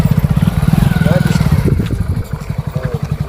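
A motorcycle being pushed to get it started, its engine sputtering and chugging in a steady rapid rhythm close by, with people talking over it.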